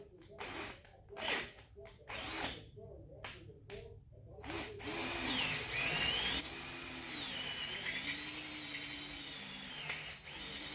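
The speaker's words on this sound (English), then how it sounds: "Put the drill in low." A power drill cuts oil galleys into an engine block, bursts of whirring starting and stopping, then a longer steady drilling run with shifting pitch and a few sharp knocks near the end.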